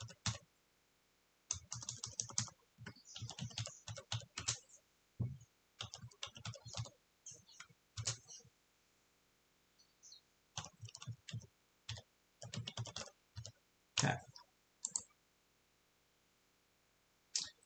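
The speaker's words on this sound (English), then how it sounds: "and I'm going to simply start typing" Typing on a computer keyboard in close, clicky bursts of rapid keystrokes separated by short pauses, heard alone with no speech.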